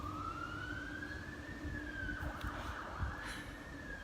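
An ambulance siren passes along an outdoor street, a steady wailing tone that slowly rises and falls over several seconds above constant low traffic rumble, with no talking.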